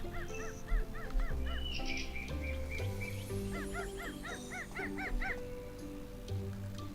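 Animal calls in a ranch and farm simulator game, short honk-like barks in two quick bursts of about five or six, over steady low game music and ambience, fairly clear.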